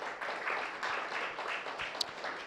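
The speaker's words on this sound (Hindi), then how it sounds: "तो फिर से चौहान सर के लिए नमन हो और जोरदार तालियां होनी चाहिए।" An audience at a gathering claps steadily in applause for an honoured teacher, a soft, continuous patter of many hands heard from some distance with no voices over it.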